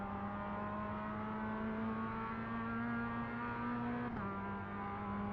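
Race cars in a video game, among them a BMW, Toyota, Renault Clio and MX-5, drone as a steady engine tone at low volume, with the pitch dropping sharply near the end.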